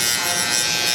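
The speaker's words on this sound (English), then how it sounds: "With the Andy's Masters, open all the way." Andis Master hair clippers, opened all the way, give a loud, steady, close electric buzz during a bald fade haircut on a child.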